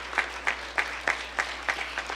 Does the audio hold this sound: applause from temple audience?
yes